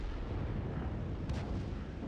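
Artillery fire in the tank battle video game World of Tanks, a dull continuous rumbling boom with a faint crack partway through, distant and muffled rather than sharp, with no one talking.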